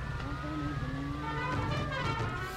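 A car engine in the game Mafia 2 pulls away and accelerates, a steady tonal drone that rises in pitch with music or game sound underneath, no talk.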